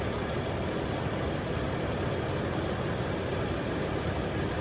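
A squatted Toyota Tacoma pickup's engine runs steadily at idle, a dense continuous rumble with broadband mechanical noise, close and unbroken throughout with no voices.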